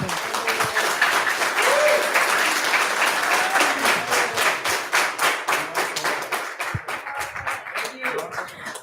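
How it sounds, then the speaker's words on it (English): Audience members at a city council public hearing clap, starting as a dense burst of applause and thinning into slower, scattered individual claps near the end. "I just need to remind you there is no clapping, please"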